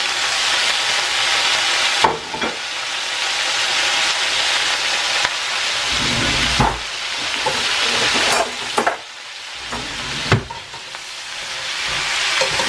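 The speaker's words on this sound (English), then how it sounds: "Then I mix it up so that it all get oiled down real good with the oil" Kale and vegetables stir-frying in oil: a loud, steady sizzle fills the whole stretch, broken by scraping and stirring clatters every couple of seconds. No one speaks.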